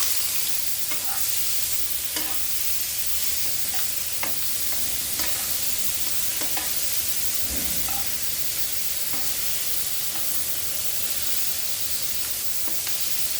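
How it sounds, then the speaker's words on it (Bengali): Prawns coated in salt and turmeric fry in mustard oil with a loud, continuous sizzle. Spatula strokes scrape the pan at regular intervals throughout, and no one speaks. "এখন আমি এই যে চিংড়ি মাছ লবণ হলুদ দিয়ে মেখে রেখেছি, এটাকে হালকা ভেজে নিই"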